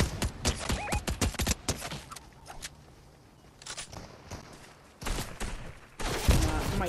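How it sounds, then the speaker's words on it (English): Gunfire in the Fortnite video game, rapid bursts of shots in the opening seconds and again near the end, loud and close, with a quieter stretch between them and some voice activity mixed in. "Somebody's shooting at me"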